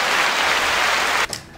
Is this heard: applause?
yes